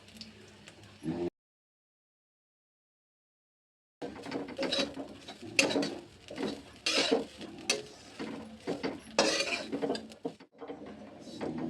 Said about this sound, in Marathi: पूर्ण याचा कलर चॉकलेट होईपर्यंत आपण याला परतून घेऊ